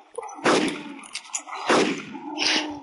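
Pistol gunfire in the video game DayZ: two loud, sharp shots about a second apart, each with a booming echoing tail, followed by a fainter crack and scattered clatter near the end.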